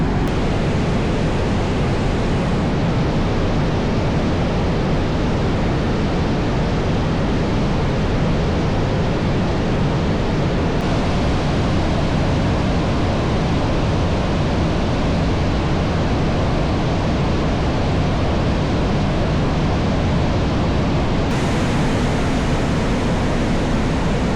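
Flowing creek water in the Laurel Highlands rushes steadily and loudly throughout, a dense, unbroken roar with no voices over it.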